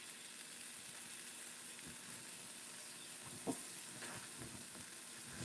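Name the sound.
bacon sizzling in a frying pan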